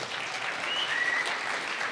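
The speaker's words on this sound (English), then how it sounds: "A round of applause for Cassie," Audience applause for an honoree at a live event, a steady, even patter of clapping held at moderate level for the whole stretch, with no voices over it.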